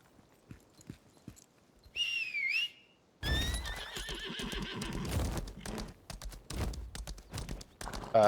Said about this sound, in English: I just got a speed quest to like go across this bridge on a horse